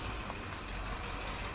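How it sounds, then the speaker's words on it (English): A school bus passes on a road with a loud, steady diesel rumble and a hissing air-brake release, heard close by from the roadside for a brief moment. "Dadgum, these school buses are after me today."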